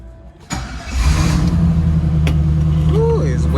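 A Camaro SS with a new exhaust cranks and fires up, settling into a steady, deep idle with a low rumbling burble close by, a voice briefly audible over it.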